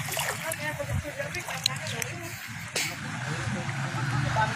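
Water sloshes and splashes as a rescued horse near Taal is bathed outdoors, with irregular pours and splatters under people talking in the background.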